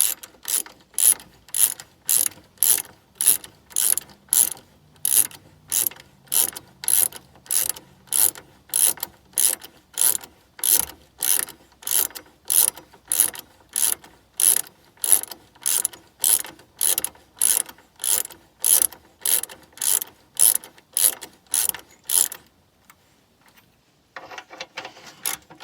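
A hand ratchet tightens the front sway bar bolts on an R56 Mini Cooper S. It makes about thirty crisp, evenly spaced bursts of clicking in a steady rhythm, close up, then stops.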